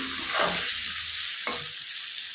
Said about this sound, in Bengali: বেগুনটা আমার ভাজা হয়ে গেছে